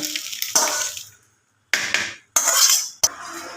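Cooked egg filling for kachori scraped and poured from a pan onto a plate: a few short bursts of wet scraping and clinking, with a brief silent pause and a sharp tap near the end.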